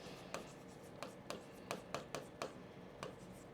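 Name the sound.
writing the word committee by hand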